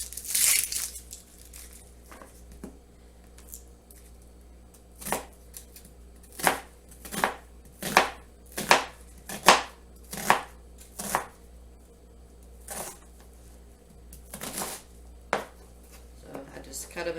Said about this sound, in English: I'm going to go ahead and cut this other onion to use as our onion crisp